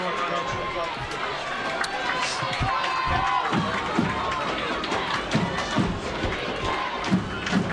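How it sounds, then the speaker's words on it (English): Crowd in the stands at a high school football game in East Brunswick, East Brunswick versus North Brunswick, a continuous cheering roar with scattered shouts and thumps, an announcer talking over it. "the crowd's into it here in East Brunswick. Crowd's still here. Crowd's alive. Stands are jumping."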